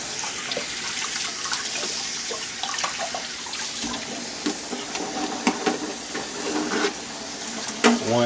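Tap water runs over lobster and shrimp as they are rinsed in a sink, a steady close splashing with the wet clatter of handling.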